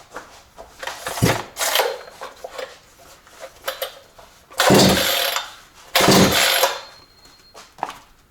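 A cheap Amazon-bought chainsaw being pull-started, giving two loud, rasping cord rips in quick succession after a few lighter mechanical clicks and handling knocks. The engine does not catch.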